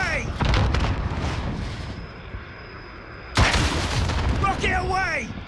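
Rocket launcher blasts in Call of Duty: Modern Warfare, loud booming launches and explosions amid constant battle noise, with a sharp heavy burst midway followed by rumbling debris and chatter-like radio tones.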